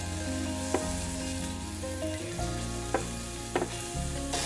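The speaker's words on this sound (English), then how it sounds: "I just melted about a tablespoon of butter, and I'm going to add my mushrooms and saute these up a little bit" Mushrooms sautéing in a tablespoon of melted butter in a pan, a steady close sizzle and fry with a few brief stirring clicks, no talking.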